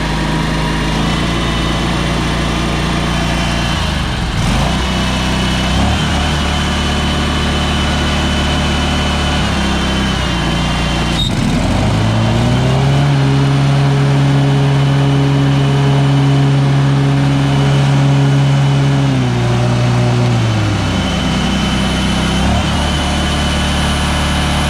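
A leaf blower engine screams at full throttle, loud and close, holding a steady high-pitched whine with shifts in revs as it surges and settles, no voices over it.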